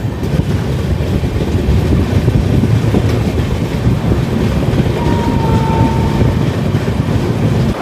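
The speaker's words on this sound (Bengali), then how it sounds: "এই মুহূর্তে আমাদের ট্রেন এসে পৌঁছালো ডেলাঙে" The Howrah Puri SF Express rolls into Delang station with a loud, steady rumble and wind buffeting the microphone, and a faint high tone briefly rises above the noise.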